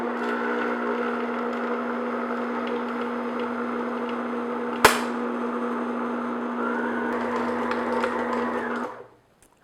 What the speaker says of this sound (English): we just want to mix this again, medium-low speed, until everything's mixed together